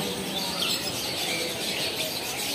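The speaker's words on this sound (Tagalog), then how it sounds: "Daming ibon dito ngayon, no?" Many birds chirp and twitter together in a dense, continuous chorus, fairly close, with no talking.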